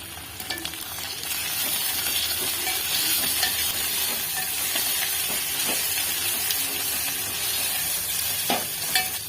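Ginger paste fries in a pan, giving a steady close sizzle and hiss throughout, with occasional scraping taps as it is stirred and no voices.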